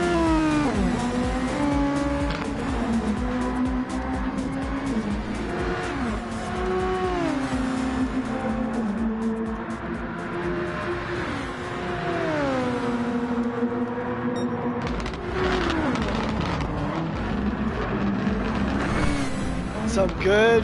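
Race cars in a racing game at Monza roar continuously, engines rising and falling through gear changes with some tire squeal, while a commentator talks over the steady loud engine noise.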